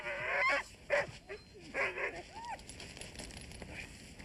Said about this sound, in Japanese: 君じゃないよ、犬だよ。